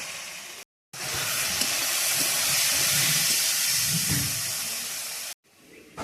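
Loud, steady sizzling hiss of potatoes frying in oil, unbroken for several seconds, with abrupt brief cutoffs near the start and end.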